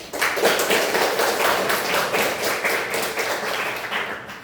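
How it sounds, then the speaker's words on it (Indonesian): A class of teenage students claps hands together in a steady burst of applause lasting several seconds, close and fairly loud, slowly tapering, with no talk over it. "Tepuk tangan."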